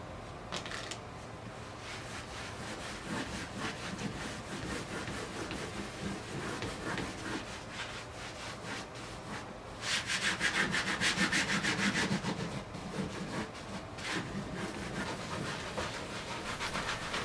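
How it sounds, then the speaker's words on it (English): Paper is rubbed against the back of an inked woodblock key block for a shin-hanga-style print, making a steady, close, scratchy back-and-forth rubbing that runs on without pause and swells briefly louder midway. "It's a good couple of minutes work rubbing the back of one of these things for a key block."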